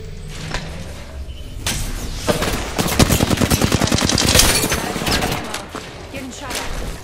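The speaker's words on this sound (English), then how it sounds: "Getting shot at" Rapid bursts of gunfire in a first-person shooter, dense automatic fire rattling for several seconds amid game effects, with a voice speaking over parts of it.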